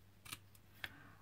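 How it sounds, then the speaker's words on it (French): Scissors make two quick snips through lace during a crafting project for a decorative bird cage, each a short crisp cut separated by a pause, close and fairly quiet with no talking. "Donc là, vous coupez votre dentelle."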